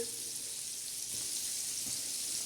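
Pomfret coated with semolina, red chili powder, turmeric and salt shallow-fries in a pan, giving a soft, continuous hiss of frying oil with a couple of faint pops, fairly quiet and without talk.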